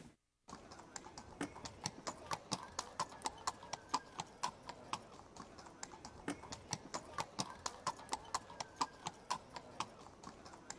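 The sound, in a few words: Gypsy Vanner horse hooves clip-clopping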